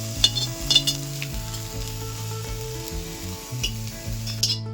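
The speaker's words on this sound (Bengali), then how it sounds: "এবার মুচমুচে করে ভেজে নিচ্ছি" Potatoes crisping in hot oil in a kadai alongside fried neem leaves, giving a steady close sizzle with occasional stirring clinks and bubbling bursts, no voices.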